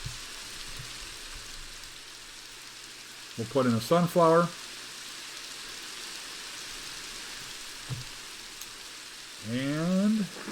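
Steady hiss of rain falling in Minecraft runs throughout the scene, a soft continuous patter under two brief stretches of someone speaking.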